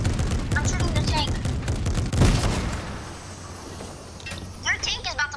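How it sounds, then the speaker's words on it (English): Gunfire from a squad firing at a tank in a Fortnite No Build match, a dense rapid burst of shots with one heavy impact, then a quieter stretch and a few scattered bursts. "I'm shooting the tank."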